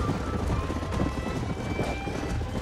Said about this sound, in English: Un caballo salvaje.